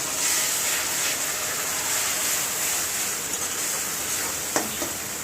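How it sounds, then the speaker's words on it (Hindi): Chili powder sizzles in hot oil in a pan for a peanut curry, a steady bright frying hiss with a few faint stirring clinks near the end. "लंका गुंड आधा चामच पकईदे"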